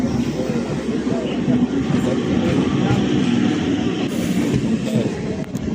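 A Bangaon local train running, with a steady rumbling roar and rhythmic wheel clatter heard from inside or close by, continuous throughout, with people talking over it.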